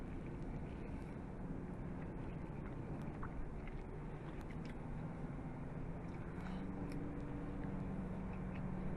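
Interior of a Honda CR-V on the road, a steady low rumble of road and engine noise with a faint wind hiss, constant and even throughout, without talk.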